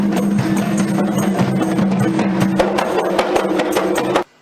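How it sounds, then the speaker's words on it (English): A group of players beats kompang, Malaysian frame drums, in a dense, driving ensemble pattern of overlapping sharp hand strikes, loud and close, continuing steadily before cutting off abruptly. "This is the sound of a group of people playing the kompang."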